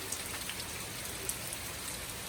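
Rain pours down steadily in a dense, hissing patter, with a few sharper drops standing out against the constant wash.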